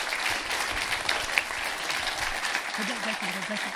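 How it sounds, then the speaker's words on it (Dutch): Steady applause from an audience at a formal presentation, clapping continuously at an even level throughout. "dat lijkt mij een applaus waard"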